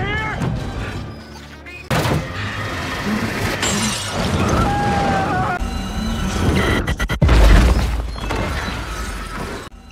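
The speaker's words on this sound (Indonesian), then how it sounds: "Mesinnya pun meledak." A machine explodes in a Fantastic Four 2015 film scene, with crashing, shattering debris and a burst of gunfire-like blasts, ending in a heavy low boom near the end.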